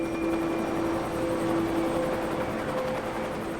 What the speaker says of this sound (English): The helicopter arrives.